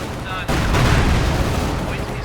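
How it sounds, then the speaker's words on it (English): Strafing-run gunfire from a Company of Heroes 2 match, in which a sudden dense burst of rapid shots and booms starts partway through and then rumbles on loudly and steadily until the end. "Strafing run going in as well."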